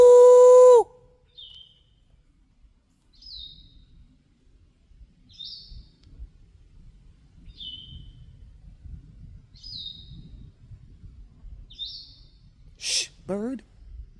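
A bird at a night campsite gives a run of short, high chirps spaced about two seconds apart, faint and distant in the quiet, with a voice heard briefly at the start and again near the end.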